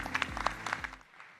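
Brief applause for a startup pitch competition: scattered claps from a small audience over a low hum, fading out after about a second.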